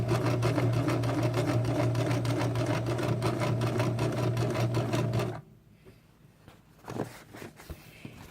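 Sewing machine running steadily while stitching a fabric tote, close and loud for about five seconds, then stopping, leaving quiet handling noises and a few soft knocks.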